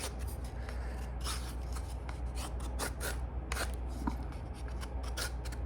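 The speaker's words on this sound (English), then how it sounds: "I'm just running down the length of this old piece of wood I got here now, and I'm making some shavings, some very fine shavings." A knife runs along an old piece of wood, carving very fine shavings as tinder: quiet, close, repeated dry scraping strokes in an uneven rhythm, with no talk.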